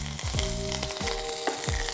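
A handful of curry leaves hits hot oil already holding popped mustard seeds and two dried red chillies for a tempering, giving a close, vigorous sizzle and crackle with brief stirring sounds.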